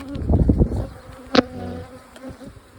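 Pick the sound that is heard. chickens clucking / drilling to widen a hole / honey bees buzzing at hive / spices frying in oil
honey bees buzzing at hive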